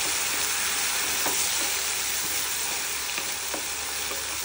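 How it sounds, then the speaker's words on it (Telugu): Lentils and spices tempering in hot oil for lemon rice, sizzling and crackling steadily and close throughout, with a few sharper pops and no talking. "ఈ తాలింపు పప్పులు అన్నీ కూడా వేగిపోవటం జరిగింది"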